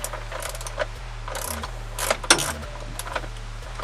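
Ratchet wrench turning loose a 10mm bolt while pulling the dash out of a Toyota AE86, a run of quick light metallic clicks, close and fairly clear over a low steady hum.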